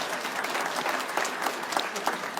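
Audience applause in a hall, a steady wash of clapping that stays loud and dense for the whole stretch, with no voices over it.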